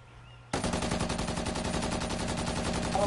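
Automatic weapon fire from the video game Titanfall starts abruptly after a short quiet moment, then runs as a loud, rapid, continuous stream of evenly spaced shots up close for the remainder.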